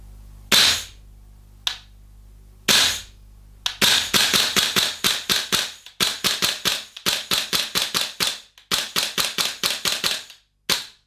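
Sharp snapping shots from a VFC HK416A5 airsoft gas blowback rifle, a few single shots then rapid bursts of clicking reports, close and loud.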